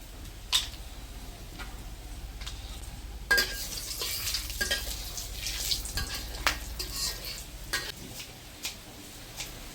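Bay leaves, dried chillies, cinnamon, cloves and cardamom sizzle and crackle in hot oil, a steady close fry with scattered sharp pops and occasional stirring clatter, no voices.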